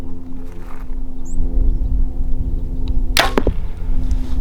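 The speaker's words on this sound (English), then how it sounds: "I'll go ahead and launch an arrow" Arrow loosed from a hunting bow outdoors: one sharp snap and whoosh near the end, following a low steady background hum.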